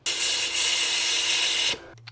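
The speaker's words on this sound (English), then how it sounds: "What I'm going to do is just spray a little bit of brake clean down each bolt hole" Brake cleaner sprayed from an aerosol can down the bolt holes of an engine block during a rebuild, a steady loud hiss lasting almost two seconds before cutting off abruptly, with a faint clunk afterward.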